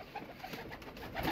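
Soft cooing from kasuri pigeons with red eyes and golden markings at a breeder's loft, low murmuring coos repeating through a busy, fairly quiet background, growing slightly louder toward the end with no talking.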